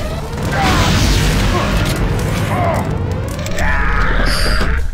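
An EMP grenade goes off in the Deus Ex video game: a loud, rumbling burst that keeps booming for several seconds, with harsh crackling and scream-like noise layered on top.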